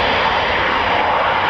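Loud, continuous roar of a Eurofighter Typhoon FGR4 jet engine at RAF Coningsby, a dense broadband rush filling the whole short stretch with no voices over it.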